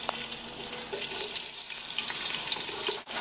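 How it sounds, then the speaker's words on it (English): Onions hit hot grapeseed oil in a pan and settle into a bright, steady sizzle and crackle, close and continuous, with a brief dip near the end. "Going to add our onions and be careful of the splash."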